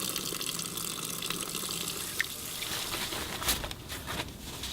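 Tap water runs steadily into a sink while hands are washed, a soft, continuous splashing rush at low volume with a few faint clinks.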